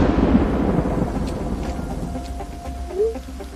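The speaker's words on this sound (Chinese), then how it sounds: "暴雨来了" Thunder in a village storm scene from an animated drama, a deep rolling rumble over steady rainfall that fades slightly before a short swell near the end.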